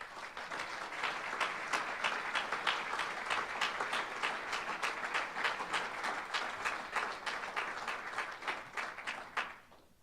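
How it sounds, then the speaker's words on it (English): An audience at a college athletic Hall of Fame induction ceremony applauds a 2014 inductee, a long, even round of many hands clapping in a large room that holds steady for ten seconds, then stops abruptly. "please give a big round of applause to 2014 Georgetown College Athletic Hall of Fame inductee, Van Phillips"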